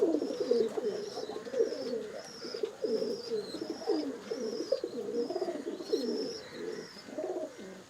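A flock of racing pigeons in a loft coos steadily, the low, rolling calls overlapping from close by. Occasional faint higher chirps rise above them, and no one speaks.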